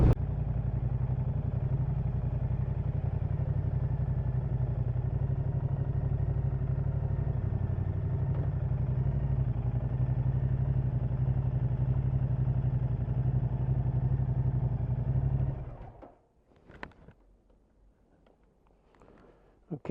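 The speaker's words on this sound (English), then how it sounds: "there is something rattling in there, like there's some hard plastic that's blowing around" A 2023 Moto Guzzi V100 Mandello riding with loose hard plastic rattling, a steady loud engine and wind drone with clatter running continuously before cutting off abruptly near the end.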